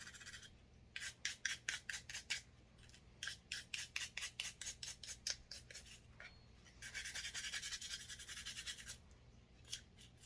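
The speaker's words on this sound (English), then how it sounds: "let's give this a wipe down. Remove all the residue and cleaner." A Glock 19 Gen 5 pistol wiped down with a cloth after cleaning, heard as close, quick rhythmic rubbing strokes in bursts, with a longer continuous scrub partway through and quiet pauses between.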